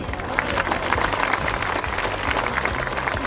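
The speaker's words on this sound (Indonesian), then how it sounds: "Untuk itu saya ajak seluruh masyarakat Malinau memberi aplaus dan apresiasi" Audience at a public launch event in Malinau, Indonesia, applauding the Governor with sustained, dense clapping from a sizeable crowd that stays loud and even throughout.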